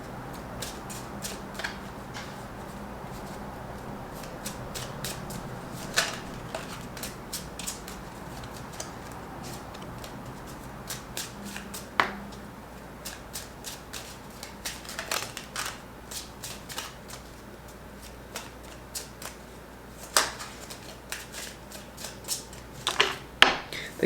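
Tarot cards are handled and shuffled in a quiet room during a yearly Sagittarius reading, giving a steady papery rustle broken by scattered crisp snaps and flicks, close and fairly soft, with no one talking.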